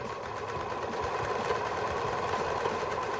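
Sewing machine stitching shirt pieces together, a steady continuous mechanical whir with fine rapid needle chatter, close and moderately quiet, no talking.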